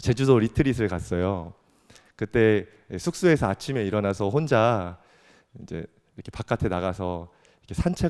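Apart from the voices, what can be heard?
None of the usual background noises is heard.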